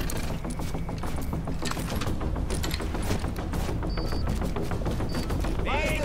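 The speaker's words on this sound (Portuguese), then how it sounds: "Com todos esses tiros chamando a atenção dos Rikers" Gunfire in Tom Clancy's The Division rattles in rapid continuous bursts, loud and close, with layered shots and mechanical clatter filling the whole stretch.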